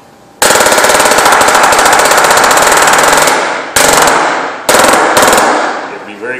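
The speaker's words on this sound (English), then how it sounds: "Very careful with this air hammer because it will hurt your fingers." A pneumatic air hammer, used while fitting a filter cloth onto a filter press chamber plate, fires in a loud, rapid rattling burst of about three seconds, then in three shorter bursts with brief pauses between.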